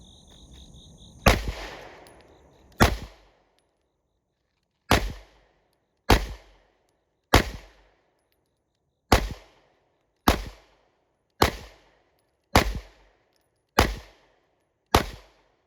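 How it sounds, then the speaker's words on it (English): Pistol shots from a Canik Mete MC9 and an H&K VP9SK ring out one at a time: about eleven loud, sharp cracks spaced roughly a second or more apart, each with a short decaying echo, and no talking. "shoot a 10-shot warm-up group with each of the pistols"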